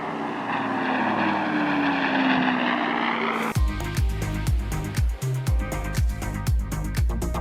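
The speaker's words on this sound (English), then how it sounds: "Mustang, great aircraft." A P-51 Mustang propeller engine drones steadily at an airshow, its pitch sliding slowly, then the sound cuts to a rhythmic series of heavy low thumps with bright clicks over them.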